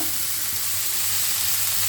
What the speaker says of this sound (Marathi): सुंदर अशी भाजी तव्यावरती होत आहे. त्याचा आवाज पण करतो, आवाज येत आहे.